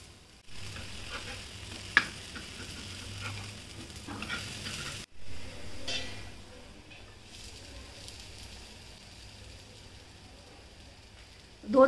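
Vegetable vadas fry in a little oil in a pan, with a soft, steady sizzle and a few light clinks and knocks.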